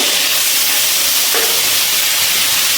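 Ginger and green chilli paste with a splash of water hits hot oil, giving a loud, continuous steamy hiss and sizzle that fills the whole clip without any talking.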